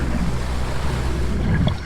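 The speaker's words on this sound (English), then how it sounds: "We leave St Mary's Harbour on Todd's boat and we head out west towards the wreck site" A boat motors out west from St Mary's Harbour in the Isles of Scilly toward a wreck site, with steady rumbling engine and water noise and wind buffeting the microphone, continuous and fairly close.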